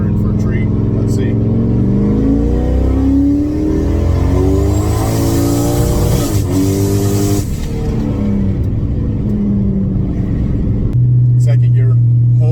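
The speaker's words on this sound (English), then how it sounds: "Pretty sure I ran it right into the rev limiter again." Turbocharged LS-swapped Camaro with a two-step launch control and raised boost pulling hard through the gears, its engine note climbing loud and close right up to the rev limiter, then dropping back to a steady idle.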